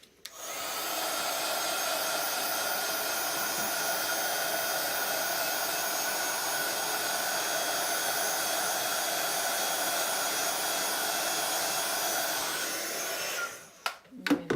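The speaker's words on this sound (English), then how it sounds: "I'm going to give that a little blast just with my heat gun" A heat gun blows steadily on freshly stamped ink on a card, a loud continuous rushing roar that runs for about thirteen seconds before clicking off with a few handling knocks.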